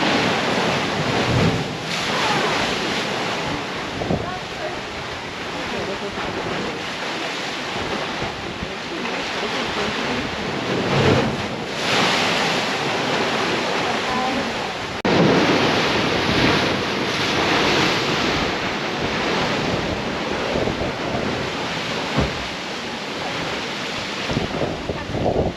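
Ocean surf surges and crashes steadily against the rocky shore at Thunder Hole in Acadia National Park, a loud continuous roar with heavy wind buffeting the microphone.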